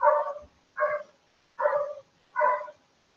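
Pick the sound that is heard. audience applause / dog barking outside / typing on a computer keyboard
dog barking outside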